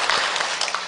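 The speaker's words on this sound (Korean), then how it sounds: "오늘 헌신 예배 드리는 우리 사여신도교회 힘차게 격려의 박수 한번" Brief burst of congregation clapping in a church during a women's devotion service, dense hand claps filling under a second.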